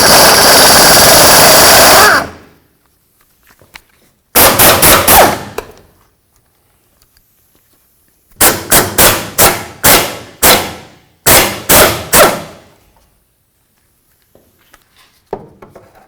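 Bursts of an impact wrench or air tool zip off the fuel tank bracket mounting nuts on a 1988-2000 Chevy C/K1500 pickup, one long burst then a run of short rattling pulses, loud and close with gaps of silence.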